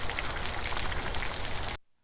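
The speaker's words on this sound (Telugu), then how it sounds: "ఇక్కడ వాటర్ పైన ఇట్లా వేవ్స్లా పోతుంది అసలు గాలికి వర్షము" Heavy monsoon rain driven by wind over water, a dense, loud, even hiss of drops on the surface that cuts off abruptly near the end.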